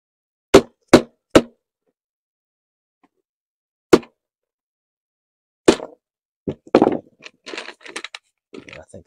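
Sharp knocks from tapping out part of a valve cover on a 2012-2018 Ford Focus 2.0L, with three quick strikes, a pause, a lone hit, then a looser cluster of taps and clatter nearby.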